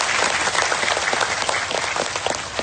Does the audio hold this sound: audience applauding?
yes